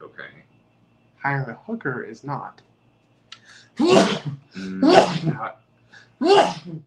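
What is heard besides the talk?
sneeze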